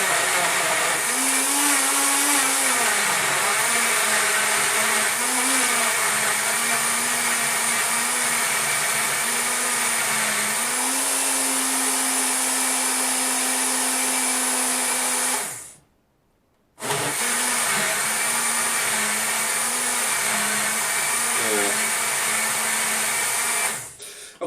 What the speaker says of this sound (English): just break them up, put them in there, and go for another blend.